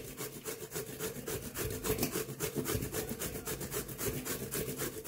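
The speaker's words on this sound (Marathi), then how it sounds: "मी इथे जे आहे तो हा भोपळा किसून घेणार आहे।" Pumpkin is grated by hand on a grater, a close rapid series of rhythmic scraping strokes repeating steadily with no voices.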